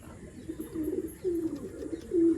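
Pigeons kept for sale coo close by, a few soft, low, rolling calls in quick succession over a faint background hum.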